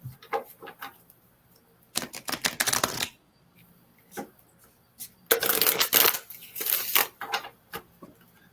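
A deck of playing cards being shuffled in bursts, a quick riffle of crisp flutters around two to three seconds and a longer, louder run near the end, with quiet pauses between, close by in a quiet room.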